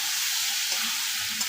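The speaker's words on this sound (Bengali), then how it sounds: "এর মধ্যে এবার আমি ছোলা মটরগুলোকে আলতো করে ছেড়ে দিলাম। জাস্ট অল্প একটু নেড়ে নিয়ে" Chickpeas and peas sizzling in hot oil in a pan as they are gently stirred, a steady bright frying hiss with a couple of soft scraping touches, close and alone without talk.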